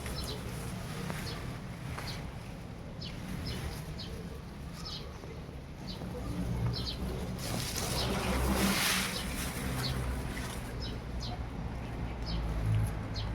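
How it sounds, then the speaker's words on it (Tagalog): Many birds calling and chirping around a large mulberry tree in rain, short repeated chirps scattered throughout over steady background noise, with a brief swell of louder rustling midway. "Kaya pala ang daming ibon dito"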